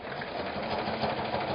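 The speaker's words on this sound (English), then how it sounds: "Make nice long runs with your sewing machine." A sewing machine runs a long, steady stitching pass straight across the top seam of a vest, its motor humming continuously and evenly at close range with no pauses.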